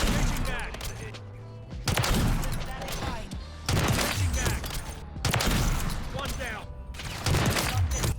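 Rapid bursts of automatic gunfire from a Call of Duty match, loud and dense, arriving in several volleys with brief gaps between them and booming low-end thumps underneath.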